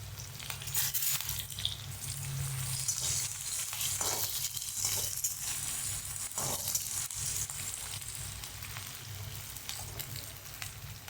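Matar bhaat fries and sizzles steadily in a pan while a spoon stirs it with intermittent scraping strokes, close and continuous.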